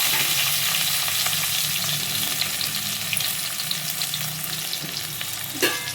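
Thinly sliced onions fry in oil for a chicken gravy curry, a dense continuous sizzle with scattered crackles and a stirring knock near the end, no talking.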